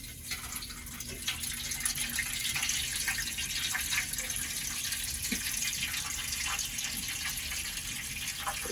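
Water drains from the filter of a Whirlpool front-loading washer with a failed pump into a pan on the floor, a steady close trickle and splash with faint drips throughout.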